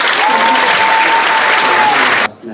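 A school audience gives a big, loud, sustained round of applause, dense clapping filling the room before it cuts off abruptly near the end.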